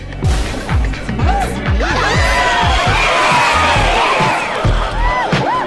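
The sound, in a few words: crowd cheering in video game This is Vegas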